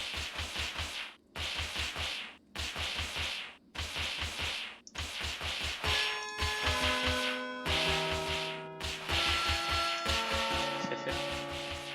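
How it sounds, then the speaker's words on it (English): Bell tones ring out in a Dustforce game map, rising in layered, sustained notes on the latter half over repeated rhythmic whooshing swipes of a character dashing through, with no talk. "Just get to hear all the different bell sounds as you go through."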